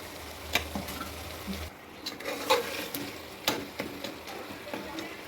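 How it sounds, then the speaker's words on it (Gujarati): Chopped tomatoes cook in a pan for veg pulao, giving a soft, faint sizzle broken by occasional light clicks and taps of stirring, with no talk. "ટમેટા એકદમ ગળી જાય ત્યાં સુધી આપણે આને પકવી દઈશું।"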